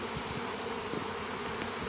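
Many honey bees of a swarm buzz around a branch and settle on the ground, a dense unbroken drone nearby without speech.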